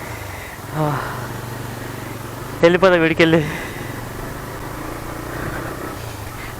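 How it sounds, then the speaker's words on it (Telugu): A motorcycle taxi's engine idles steadily with a low rumble after being started, while someone speaks briefly over it. "బైక్ అయితే స్టార్ట్ అయిపోయింది"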